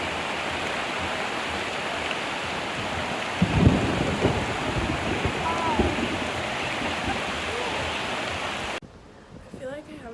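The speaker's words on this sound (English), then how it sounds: "Oh, it's starting to rain." Rain begins to fall outdoors as a steady, soft hiss that thickens slightly partway through, with faint low rumbles beneath, before cutting off near the end.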